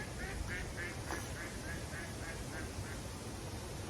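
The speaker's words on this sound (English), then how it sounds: "Canadian geese. No, Egyptian geese." A series of evenly spaced honking calls from Egyptian geese, about ten in a row, fairly distant and faint over a steady background hiss.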